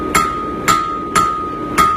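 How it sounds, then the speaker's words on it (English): Four hammer blows ring out on steel flat bar being forged into a fishtail, evenly spaced about half a second apart, each a sharp close metallic strike with a bright ringing tone between hits. "Just going to make a bit of a fishtail, hammer a fishtail out on these, steady away."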